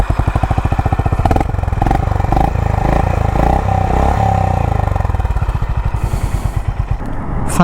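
Honda H'ness CB350 motorcycle exhaust while riding, a loud, close, steady thumping beat that keeps going throughout, with the pulse rising and falling slightly as the engine pulls, and no voices over it.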